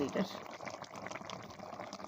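Curry of cauliflower and potato bubbling in a pot over a wood fire, a soft continuous simmer with small pops, heard faintly up close.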